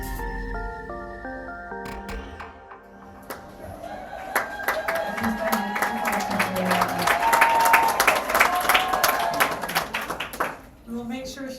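Audience applause at a school board meeting, a steady patter of clapping that builds and swells, then tapers off, with some background murmur and tonal sounds mixed in.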